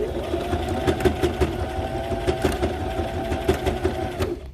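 A sewing machine runs steadily as it stitches fabric for a kids' headband, with a fast rhythmic mechanical chatter that continues throughout, moderately loud and without talk.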